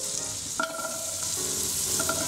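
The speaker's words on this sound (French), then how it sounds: "Vous ajoutez les carottes." Carrots sizzle steadily in butter in a pan, with occasional scraping and stirring sounds close by.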